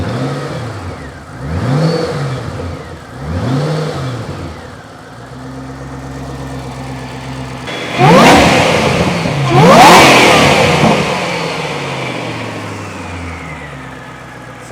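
A supercharged Ford GT engine revs repeatedly, rising and falling in pitch, then roars up loudly twice before settling back toward a steady idle.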